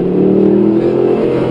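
A Mercedes-Benz car accelerates on the Lohéac circuit. Its engine gives a loud, close, steady drone with strong low harmonics that holds for the whole moment, with no talk over it.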